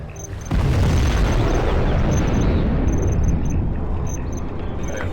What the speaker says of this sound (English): Warning, nuclear missile launched.